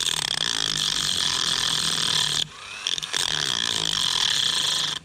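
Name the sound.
Dremel with small cutting wheel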